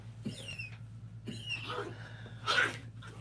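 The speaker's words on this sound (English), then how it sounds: "Y'all hear my doggy, y'all?" A pet dog gives three short, faint yelps or whines indoors, spaced about a second apart, over a low electrical hum and with no talking.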